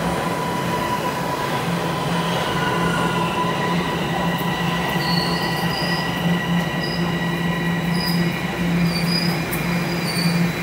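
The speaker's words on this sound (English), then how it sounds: "And the northbound train." A Toronto streetcar on King Street rumbles past at steady volume with a sustained metallic wheel squeal ringing over it, plus higher squeaks that come and go.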